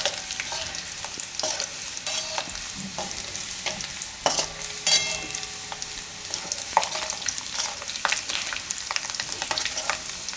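Garlic and whole cumin fry in hot oil, giving a steady crackling sizzle with scattered pops and the clink of a stirring spoon, close and without speech.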